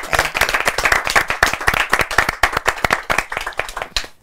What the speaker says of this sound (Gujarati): ચાલો ખૂબ બધી તાળીઓ આકાશ અને મુરલીબેન બંને માટે